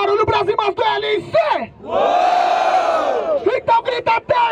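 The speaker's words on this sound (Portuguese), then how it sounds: "Barulho pra cima do LC" A crowd at a Brazilian rap battle in Barueri, São Paulo, cheers and shouts for a contestant: rhythmic chanted yells, then a long, loud sustained roar, then more chanting bursts.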